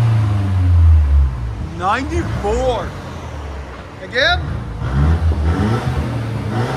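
A 2016 Mercedes C300 with a 2.0L turbo engine and straight-pipe exhaust rumbles low and loud under someone talking, the engine note swelling at the start and again near the end.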